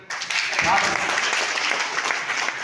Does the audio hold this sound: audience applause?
yes